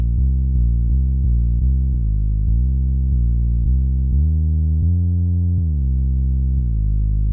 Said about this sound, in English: Go ahead and turn it on, the portamento.